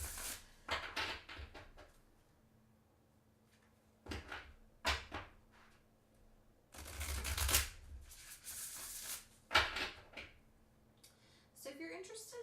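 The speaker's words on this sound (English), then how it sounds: "Let's get a good shuffle." Tarot cards being shuffled by hand during a reading, in repeated bursts of riffling and slapping of the deck, with brief handling noises between bursts and a faint hum underneath.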